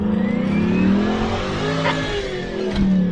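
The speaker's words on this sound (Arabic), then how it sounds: "شوية السيارة تتحرك." A car engine revs hard while the vehicle is stuck off-road, its loud droning note rising and surging over several seconds with no one talking.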